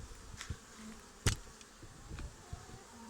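Faint buzzing of honeybees at close range at a hive, with scattered knocks and a sharp click, fairly quiet overall.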